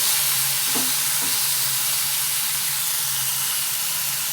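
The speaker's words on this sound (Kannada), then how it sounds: "ಸಣ್ಣ ಉರಿಯಲ್ಲಿಟ್ಟು ಒಂದು ಹತ್ತು ನಿಮಿಷ ಆದರೂ ಫ್ರೈ ಮಾಡಬೇಕು" Bitter gourd fries gently in a pan over a low flame, giving a quiet, steady sizzle and hiss with a couple of faint stirring clinks early on.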